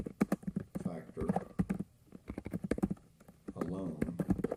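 Rapid clicking of keys on a computer keyboard, mixed in with a person talking over it in bursts.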